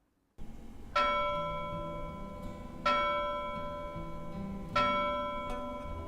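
A large church bell in Tuscany tolls three times at slow, even intervals, each strike ringing out and fading under a faint background hum.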